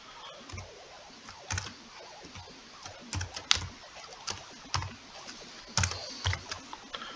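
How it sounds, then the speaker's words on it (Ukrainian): Keys on a computer keyboard clatter in quick, irregular bursts as text is typed into a website form, with crisp close clicks and short pauses and no talking. "Вводимо сюди текст, який ми вважаємо за необхідний."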